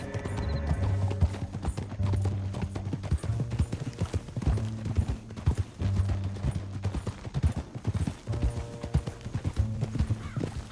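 Horse hooves galloping in Red Dead Redemption 2, a rapid clip-clop rhythm with occasional whinnies and snorts over an orchestral game score, moderately loud and close.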